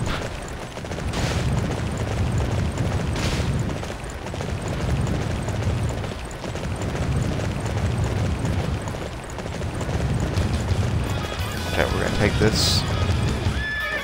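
Horse hooves pound in a steady galloping rhythm within Dynasty Warriors 9, with occasional neighs and distant battle booms, while someone talks over the action.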